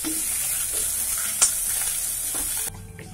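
Onions frying in a pan while being stirred for a Bihari-style bathua saag, a steady close sizzle with scraping stir strokes and one sharp clink, the sizzle dropping abruptly near the end.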